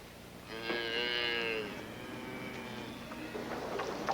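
Cattle low in the desert country of central Australia, one drawn-out moo rising clearly above a quiet outdoor background, followed by fainter rustling and distant animal sounds.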